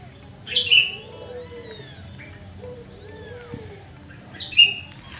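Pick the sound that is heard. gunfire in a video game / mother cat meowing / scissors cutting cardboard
mother cat meowing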